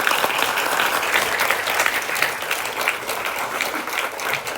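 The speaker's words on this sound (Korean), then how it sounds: "우리 목사님 나오실 때 박수로 한번 환영하겠습니다." A church congregation applauds to welcome the pastor onto the stage, a full, steady round of clapping from many people that holds evenly from start to finish without talk.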